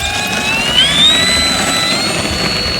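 FMS Kingfisher 1.4m RC plane flying into the wind, a steady loud whining electric-motor drone with a rising pitch sweep as it passes, continuous and close without talk.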